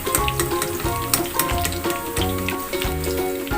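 Onions frying in hot oil until red, a steady loud sizzle with stirring clatter and scraping recurring throughout, no talking.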